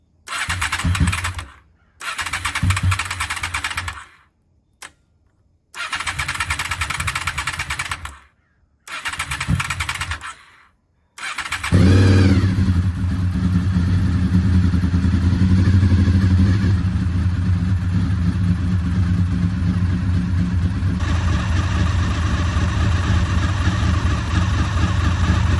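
Fifth-generation Honda VFR800 motorcycle being started after sitting unused for eight years: several bursts of starter cranking separated by pauses, then the engine catches and settles into a loud, steady idle close by.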